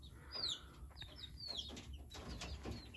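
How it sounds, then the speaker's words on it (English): A young cockerel and pullet, about four or five months old, cluck and chirp in short, soft bursts, close by and quiet, with no talking. "Cockerel and a pullet. I just got them about a week ago. So they are the newest birds."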